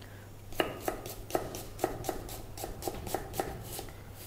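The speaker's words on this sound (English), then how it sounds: "Now onion chop." A knife chops onion on a board in a steady run of about a dozen quick, crisp taps over a low background hum.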